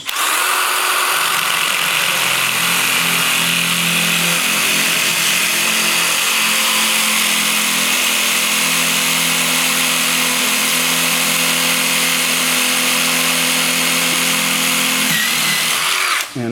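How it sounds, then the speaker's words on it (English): A tile drill with a Miyanaga bit grinds loudly and steadily through 1/4-inch class 4 porcelain tile, a continuous near whine that holds for the whole stretch before stopping at the end. "So now we're going to drill a couple holes."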